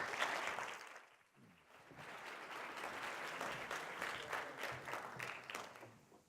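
An audience at a conference review session breaks into steady, sustained applause to welcome speaker Steve Shipman. The clapping stays full and even throughout, dipping briefly early on and then swelling back.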